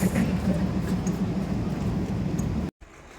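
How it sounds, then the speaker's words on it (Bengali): The Purbasha Express rolls into a station platform, a loud, steady rumble of wheels and carriages close by, holding for nearly three seconds before cutting off abruptly into a quieter hum. "ট্রেন আসছে চলো পূর্বশ এক্সপ্রেস"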